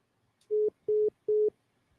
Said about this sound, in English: Oh, my phone cut off.